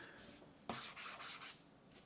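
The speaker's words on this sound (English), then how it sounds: "The ceramic nib scratches the Boox devices" A ceramic stylus nib writes on a Boox Note Air 4C e-ink tablet screen, giving a few quiet, short scratchy strokes in quick succession after a soft rustle.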